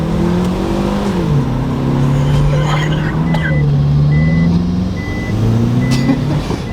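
A 635 bhp Ford Sapphire Cosworth reverses fast, its engine droning loud and close with the pitch rising and falling as it revs, while people talk over it.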